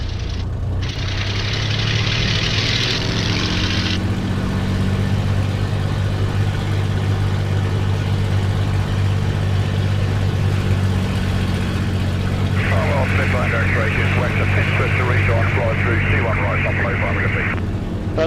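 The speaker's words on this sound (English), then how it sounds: "So I'll just run the engine up." A light aircraft engine runs up before flight, a loud steady drone with a strong low hum that holds throughout, and a high whine rising briefly near the start and again toward the end.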